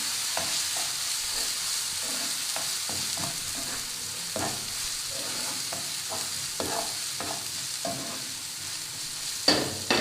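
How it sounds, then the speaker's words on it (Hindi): Steady sizzling of ginger garlic paste frying in a pan, with scattered scrapes and taps of a spoon stirring, continuous and close. "और इसको अच्छा सा थोड़ा सा भूनेंगे।"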